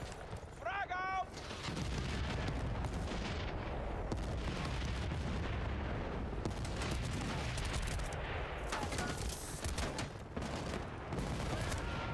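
A frag grenade blast and heavy gunfire in Battlefield Bad Company: after a brief whistling sweep, a loud, continuous barrage of shots and explosions fills the rest of the clip, close and chaotic, with faint game voices mixed in.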